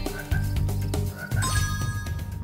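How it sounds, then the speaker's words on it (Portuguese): Frogs croaking in a night-time lake level of the video game Spyro 3, several loud, repeated croaks layered over the game's background music and chimes. "Cheio de sapo de perereca aqui."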